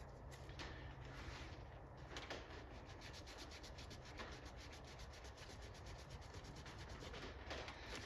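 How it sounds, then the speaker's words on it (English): An old, blackened wire from a Pole Position arcade game power brick is scrubbed with Simple Green cleaner, making a steady, continuous close rubbing and scraping sound that lasts throughout. "Just rubbing it with some simple green to try to make it look a little nicer."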